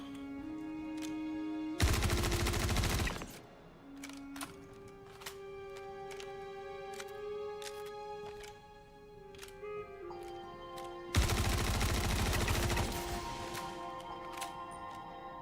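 Enemy AI in a first-person shooter fires through walls. Two loud bursts of rapid automatic gunfire, each about a second and a half long, stand out over a steady, clicky game soundtrack with no talking.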